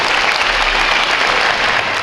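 A school audience claps loudly and steadily for the staff at an anniversary celebration for a renovated school, a dense close burst of applause lasting a couple of seconds.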